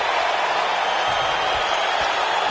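A crowd roars in a wrestling video game after a move by Psycho Sid, a steady, dense wash of cheering and noise with no pauses, heard briefly.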